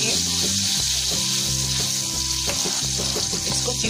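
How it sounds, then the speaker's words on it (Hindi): Spice masala for spicy baby potatoes fries loudly in hot oil in a pan, giving a constant dense sizzle with stirring scrapes mixed in, very close. "पैन में हमने ऑयल गरम कर लिया है। अब इसमें हम ये मसाला डालेंगे। इसको मिक्स कर लेंगे।"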